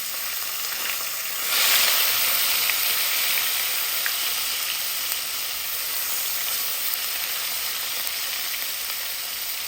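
Onion, green chili and tomato dropped into hot oil, giving a loud, bright, continuous sizzle that swells near the start and then holds steady, close up with no talking.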